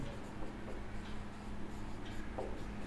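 Pen or marker writing out a maths solution on a board or paper, a steady scratchy rubbing with short strokes running throughout at low level, no voice heard.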